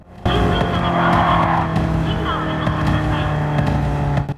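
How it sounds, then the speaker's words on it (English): An emergency voice message broadcast from a car's horn speaker in Gran Turismo 7, a continuous loud synthetic voice announcement over a steady engine drone. "a voice message comes out of the vehicle's speakers, an emergency message normally intended for citizens who hear this vehicle passing by, asking them to clear the way"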